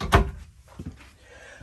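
A drawer in the bathroom of a 2021 Passport GT 3352BH travel trailer opens or shuts with a single sharp thunk, followed by softer rattles and bumps a moment later, close and fairly quiet.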